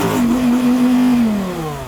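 A sports car engine, from a BMW M3 versus Audi R8 GT drag race sound check, revs up and holds a strained, rising note close by before easing off, loud and alone with no talk.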